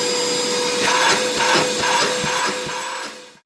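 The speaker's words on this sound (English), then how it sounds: "Let's try this cordless vacuum cleaner" A Parkside 20V cordless shop vacuum runs with a steady high-pitched whine, small debris rattling through it, before it switches off at the end.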